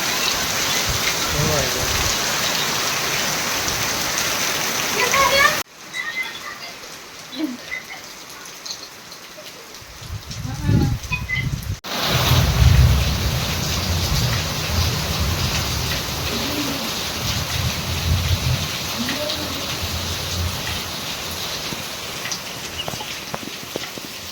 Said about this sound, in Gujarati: વરસાદ તો જો વધવામાં જ છે જોઈ લ્યો તમે